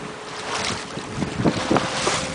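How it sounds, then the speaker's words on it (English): A sailboat on port tack moving at about 5.5 knots on Lake Ontario near the Scarborough Bluffs, with steady wind rush and water swishing along the hull, a few louder surges of spray, no talking. "We're going to do a bit of a sail past here."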